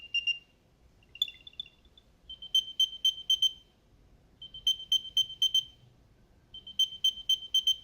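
Apple AirTag 2 ringing with a higher-pitched tone, a few short opening chirps followed by repeating groups of quick bright beeps separated by brief pauses, clear and close.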